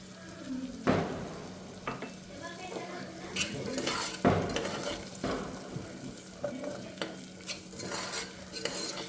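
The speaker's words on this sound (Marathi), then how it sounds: "तर तो वटाणा आपल्याला छान असा यामध्ये घ्यायचा आहे परतून" Green peas being sautéed in a kitchen pan, with a soft steady sizzle under repeated close clinks and scrapes of a stirring spoon against the metal.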